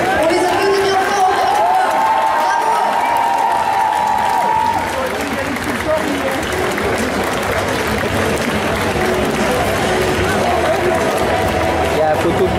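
An indoor festival audience applauds cosplay contestants on stage at a Sunday cosplay contest, sustained dense clapping with crowd noise filling the hall, loud and steady throughout, easing slightly midway.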